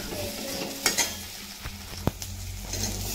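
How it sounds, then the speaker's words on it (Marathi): Diced eggplant tipped into a pan of frying potatoes and stirred, a steady close sizzle broken by a few sharp scrapes and taps of the spoon against the pan, with no talking. "आणि आता आपण त्याच्यात वांगी टाकू"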